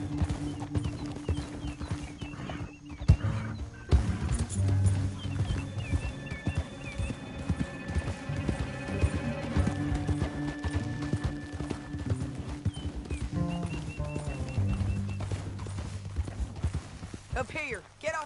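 Horse hooves gallop in the Red Dead Redemption video game, a rapid rhythmic clatter that persists throughout, with a whinny and background music. Characters talk over the hoofbeats.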